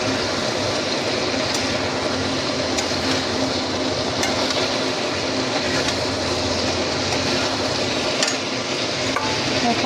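Cauliflower being stirred and fried in a wok, giving a steady broadband sizzle with scraping stir strokes, moderately loud and continuous, with no talking.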